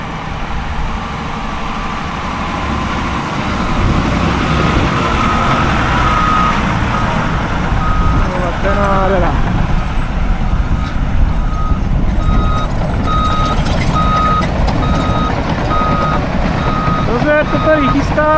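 Tatra trucks with Allison automatic transmissions working on a motorway rest-area widening site, heavy diesel engines rumbling close by while repeated reversing beeps sound at a steady rhythm, with someone talking over the machinery.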